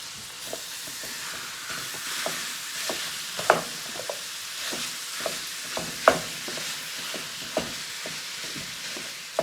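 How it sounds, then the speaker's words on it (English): Ground beef sizzles in a hot pan for stuffed shells, a steady frying hiss broken by repeated scraping stirs and occasional sharper clacks of a spoon, close and moderately loud with no talk. "we're gonna start adding in our ground beef now"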